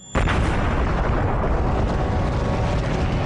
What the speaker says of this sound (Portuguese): nosso universo começou há uns 14 bilhões de anos com uma explosão muito violenta